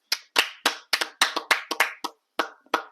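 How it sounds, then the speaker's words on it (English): A small group claps hands in uneven, separate bursts, about a dozen sharp claps spaced through a quiet room, close and fairly loud with no talking. "We need to give him a round of applause."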